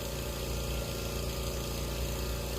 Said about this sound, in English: I'm cutting with the 36-inch stand-on Exmark Vantage.